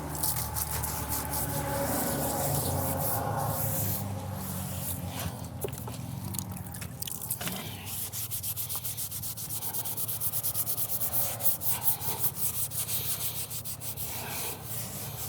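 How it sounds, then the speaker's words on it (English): A truck tire on an abandoned Ford F-350 is scrubbed with a fine Scotch-Brite pad, a steady, close, continuous rasping and rubbing that runs without pause and with no talk. "So we're gonna brush our tire."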